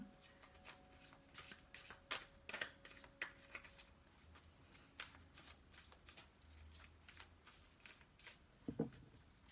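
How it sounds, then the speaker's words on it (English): A Psychic Tarot card deck is shuffled and cards are drawn by hand: quiet, close riffling flurries and soft snaps come in uneven bursts over a hushed background. "So I'm going to just pull a couple of cards from the Psychic Tarot deck here."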